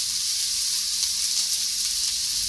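Carrot and cabbage for a whole-soybean noodle dish fry in a pan with a constant, even, close sizzle that holds steady without a break or any voices.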